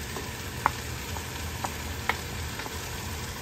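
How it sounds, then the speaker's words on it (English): Onions hit a hot pan already sizzling with potatoes, a constant crackling fry with a few sharp clicks of a utensil scattered through; close and steady, no voices. "All right, we're gonna add our onions."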